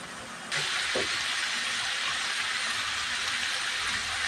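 Chicken sautéing in its own oil for tantuni sets off a sudden, steady frying hiss that begins abruptly and holds loud and even to the end.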